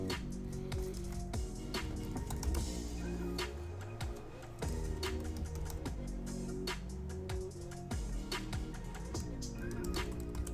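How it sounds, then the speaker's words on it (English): Rapid clicking of keys on a computer keyboard, typed in quick bursts with short pauses, close and clear with no talking over it. "So I'm typing in McFarlane, Frankenstein diorama"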